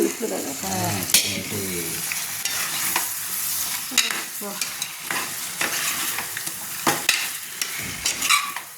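Native chicken pieces sizzle and fry in hot oil while being stirred in a pan, with repeated scraping stir strokes over a steady close sizzle; a voice speaks faintly at moments.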